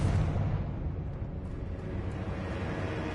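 Fiery Confringo spell blast in Hogwarts Legacy, a dense rumbling burst that stays loud and low through the whole moment, with no voices over it.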